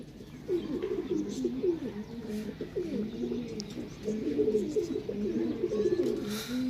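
Rampuri pigeons coo continuously at close range, with low, rolling, overlapping calls over a soft background murmur.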